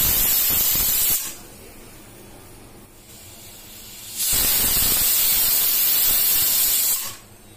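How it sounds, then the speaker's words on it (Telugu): Pressure cooker on a stove venting steam, two loud sustained hissing bursts separated by a quieter stretch, each cutting off sharply, with no talking. "ఇప్పుడు కుక్కర్ స్టవ్ మీద పెట్టి ఒక 2 విజిల్స్ వచ్చే వరకు కుక్ చేసుకోవాలి"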